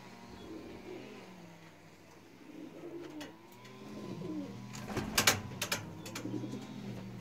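Racing pigeons coo in low, repeated throaty calls near a loft, soft and intermittent, rising into a livelier cluster of coos and flutter-like clicks toward the end.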